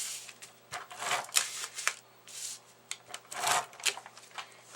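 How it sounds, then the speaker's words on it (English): An ATG tape gun runs adhesive tape along the edges of a handmade card, making soft scraping, rasping strokes in short bursts close by, with pauses between passes. "So I'm going to get my tape along on my edges."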